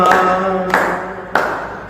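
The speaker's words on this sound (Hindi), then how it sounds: "सारे मिलकर ताली बजाओ" A church congregation at a Mennonite Sunday worship in Bhilai clapping along to a worship song, three sharp claps spaced evenly and close, each ringing out briefly in a reverberant hall.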